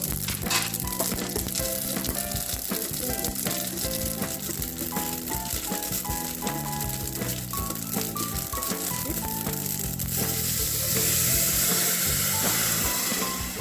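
Goan mango curry poured into hot coconut oil with mustard seeds and asafoetida, giving a loud, steady sizzle and crackle with stirring rattles, running continuously without talk while background music plays.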